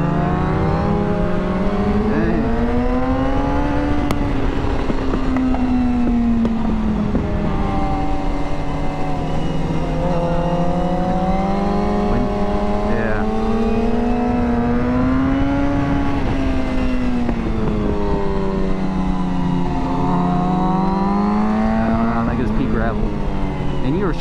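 Suzuki GSX-R 750 sport motorcycle engine ridden fast on a mountain road, a loud, steady high-revving whine with rising and falling pitch as the throttle swells and eases, continuous and close throughout.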